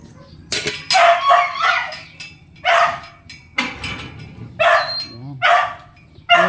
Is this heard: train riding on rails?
no